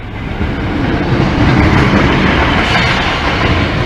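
A single-car Class 153 diesel train from Doncaster rolls past the Lincoln Central level crossing, a loud, close, continuous roar and rumble of wheels and engine filling the whole stretch, with no talking.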